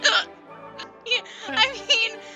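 A person with persistent hiccups lets out four sharp, abrupt hiccups spaced about half a second apart. The hiccups are close and fairly loud, with breathy sounds between them.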